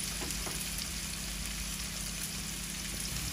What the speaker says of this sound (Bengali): মরিচ ভাজি হোক।